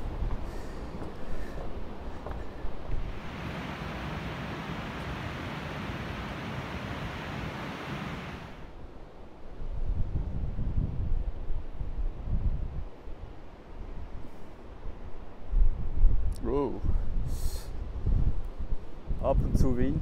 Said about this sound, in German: Ab und zu Windböen.